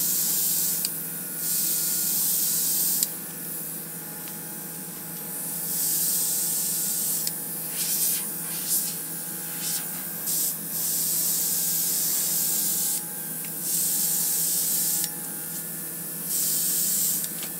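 Spray paint hisses from an aerosol can in repeated bursts of a few seconds each, separated by short pauses, loud and close.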